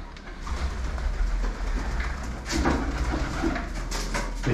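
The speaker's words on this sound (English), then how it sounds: "Pigeons in there? Just two in corner." Pigeons coo and rustle inside an abandoned cinema in Liverpool, soft and somewhat distant within a low, rumbling hollow room tone with scattered shuffling noises.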